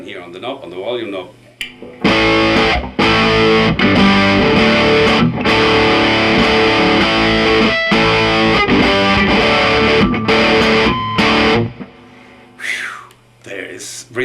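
A heavily distorted vintage 1956 Gibson Les Paul Junior electric guitar plays loud sustained chords through an amp, with short quieter gaps and brief talking at the start and end.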